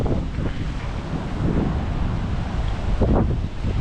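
Strong wind blows hard across the microphone outdoors near a garden bed, a loud continuous roar with gusts and buffeting throughout, with no speech.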